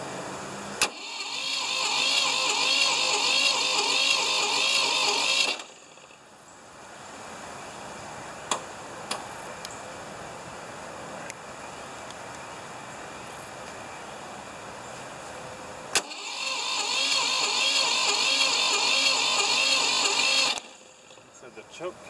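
Ford 2600 tractor engine cranked for a start with a frozen choke cable, a loud chugging, pulsing run for about five seconds, a quieter stretch with faint speech, then a second loud burst of engine rumble.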